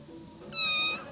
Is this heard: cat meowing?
yes